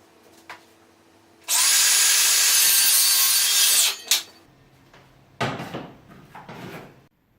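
Power saw cutting wood mitres for a workshop pegboard box: a loud, steady cut of about two and a half seconds, then a clunk and a few shorter rasping bursts and knocks as the piece is handled, with no talk.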